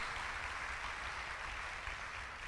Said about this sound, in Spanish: Dale otro aplauso al Señor Jesucristo.